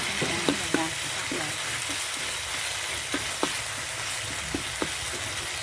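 Red curry paste fries in a large pot, a dense, continuous sizzle close up, broken by scattered scraping knocks as it is stirred.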